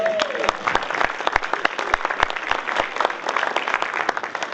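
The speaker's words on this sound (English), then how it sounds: "Can we take a moment and applaud these people doing the A/B table over here?" An audience at a Michigan campaign finance event applauds the people staffing a table, with steady, fairly loud clapping and some distinct individual claps. A short voice sounds at the very start.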